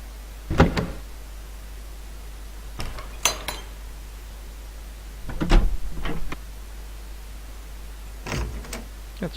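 Door open and close sounds being auditioned in The Dark Mod level editor, swapping out the default: several short clanking, clinking impacts in separate bursts a couple of seconds apart, crisp and close, with quiet gaps between.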